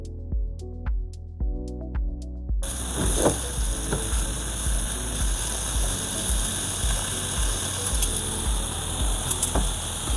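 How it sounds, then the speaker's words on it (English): Food sizzles and crackles loudly in hot oil, a constant hissing fry with occasional pops, after a few brief clicks at the start. "I hope you can hear the sizzle."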